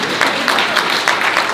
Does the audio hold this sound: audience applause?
yes